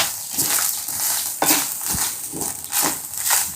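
Chicken curry ingredients, including ginger pieces and curry leaves, frying in a pan. A bright, continuous sizzle rises and falls with scraping and stirring, and there are a few soft knocks of a utensil against the pan.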